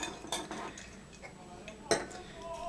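Metal cocktail strainer clinking against glassware while a Martinez is strained, two sharp bright clinks standing out over a quiet background with light handling noise between them.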